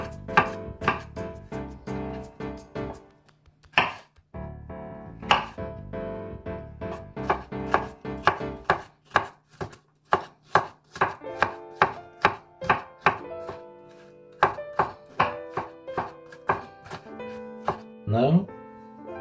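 A knife chops paprika into squares on a cutting board while a Spanish seafood paella is prepared, giving a steady run of sharp, close board taps with brief pauses between bursts.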